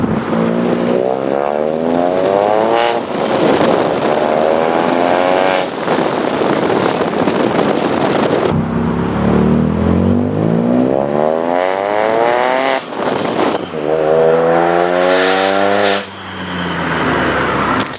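A Ford Fiesta 1-litre EcoBoost with a decat downpipe roars very loudly, the engine revving up and down in repeated rising and falling sweeps, close and harsh with no talk.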